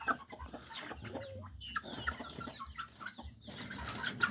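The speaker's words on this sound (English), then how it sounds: "There's a rooster." Roosters and hens cluck and squawk in a crowded pen after being moved together, with steady overlapping clucks and a few sharper calls throughout, close and fairly loud.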